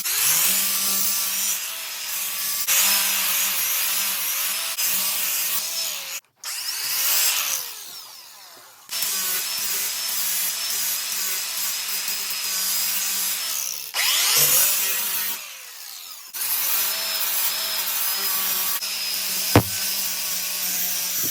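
Grinder smoothing the sharp edges of a maple and resin river table, a loud sustained abrasive whine in long passes broken by brief stops, close and alone with no talk.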